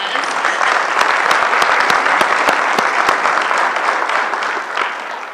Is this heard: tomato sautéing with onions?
no